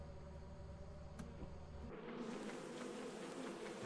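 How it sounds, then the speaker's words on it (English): Bees buzz steadily around a beehive in the video game Lethal Company, a dense close drone that swells and brightens partway through, with no talking. "Oh, another bee."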